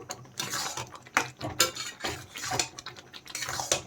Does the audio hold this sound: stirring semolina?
yes